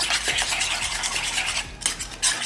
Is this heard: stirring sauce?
yes